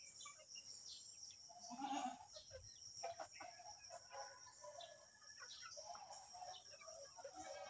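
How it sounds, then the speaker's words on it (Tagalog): Goats bleating on a family farm where chickens are also kept, several short calls scattered near and far over quiet farmyard background, with occasional fowl sounds mixed in. "Ito na naman tayo sa mga kambing guys."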